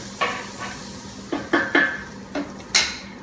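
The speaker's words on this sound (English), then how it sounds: "I'm going to spread my butter around, coating the whole pan with my wooden spoon, making sure that I don't scratch the bottom of my nonstick pan" Butter in a nonstick pan being spread with a wooden spoon, a quiet sizzle beneath about six distinct scraping and tapping strokes of the spoon against the pan, close and unhurried, with no talking.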